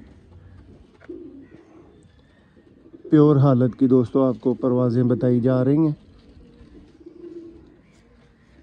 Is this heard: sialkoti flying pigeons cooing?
yes